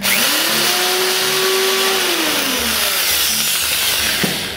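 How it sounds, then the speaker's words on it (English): A handheld power drill whines steadily as it bores a small pilot hole, its pitch rising as it spins up and sagging under load, loud and close with a constant broadband hiss throughout. "I'm going to take a drill and drill a pilot hole first"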